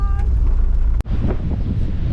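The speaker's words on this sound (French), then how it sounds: "Oula, ça souffle ici." Strong wind buffets the microphone on an exposed New Zealand hiking track, a constant low roar with a brief dropout midway before the gusting rumble resumes.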